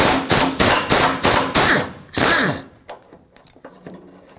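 A ratchet wrench backs 10mm bolts off a car's bumper bracket: six quick, close bursts of clicking in a steady rhythm, then a longer spin and quieter handling noises.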